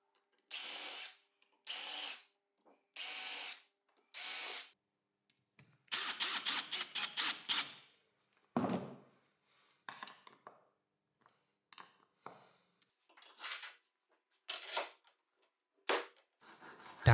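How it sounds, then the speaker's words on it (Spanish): Aluminium T-Track profiles being cut to length for a homemade sliding crosscut table, four short evenly spaced loud cutting bursts followed by a longer rattling run and scattered lighter grinding passes, close and with no talk. "También cortaré a medida los perfiles T-Track para poder atornillarlos a la base de la mesa"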